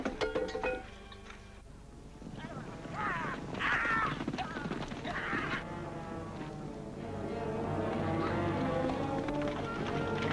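Horse hooves clip-clop along amid a busy outdoor scene, with crows cawing in bursts and a continuous background murmur.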